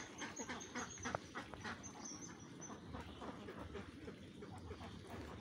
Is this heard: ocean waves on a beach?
no